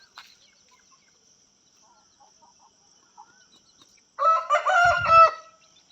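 A rooster crows once in the morning, loud and fairly close, after a long near-silent stretch with faint background chirps.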